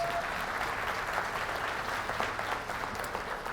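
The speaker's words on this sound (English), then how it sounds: "Please give her a big round of applause." An audience at a conference keynote applauds steadily, a dense, sustained wash of many hands clapping at moderate volume for several seconds.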